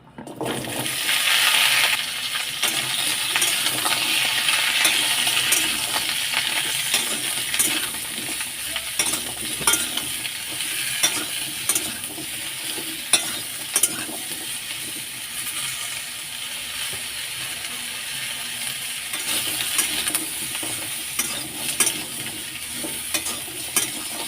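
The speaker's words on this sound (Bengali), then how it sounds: "লো টু মিডিয়াম ফ্লেমে 5 মিনিট ভেজে নিয়েছি।" Papaya, potato and plantain fry in hot oil over low to medium flame, giving a continuous loud sizzle with scattered pops and stirring clinks throughout, close up and without speech.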